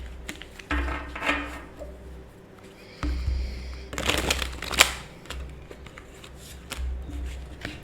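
A tarot card deck being shuffled by hand, with repeated riffles and rustling bursts and soft taps from the cards, close up and loud with uneven pauses between shuffles.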